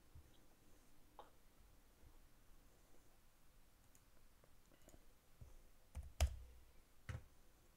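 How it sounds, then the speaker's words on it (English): A computer mouse gives a few faint, sharp right clicks in a very quiet room, isolated ticks spaced apart and clustered near the end. "I'm just gonna right click in my viewport area here"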